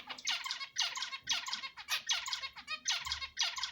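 A male Indian bulbul sings in a rapid, continuous run of bright warbling phrases, loud and close, with a faint low thump underneath.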